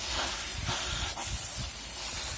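Pressurized tap water sprays onto stapelia plants in a steady, loud, close hiss that keeps up without a break.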